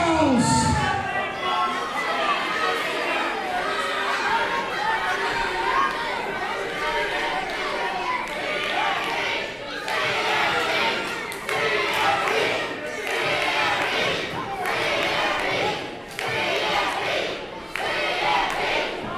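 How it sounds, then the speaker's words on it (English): A New South Wrestling crowd in Hartselle shouts, cheers and chants loudly and continuously during a ring match, a dense roar of many voices with rhythmic surges and occasional thuds. "The New South crowd here in Hartselle is fully behind Cabana Man Dan"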